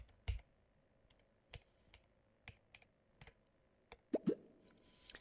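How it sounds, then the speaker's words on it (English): Scattered, fairly faint keystrokes on a computer keyboard in a quiet room, irregular single taps and small clusters spread across the stretch, with no talking. "We're just going to type in listings."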